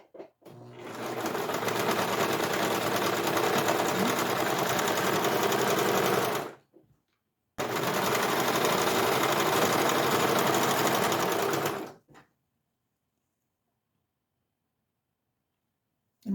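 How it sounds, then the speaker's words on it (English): A serger stitches fabric cuffs together in two sustained runs, the first about six seconds and the second about four and a half, with a short pause between them. The whirring is steady and close, with no talking. "You put this together on your serger,"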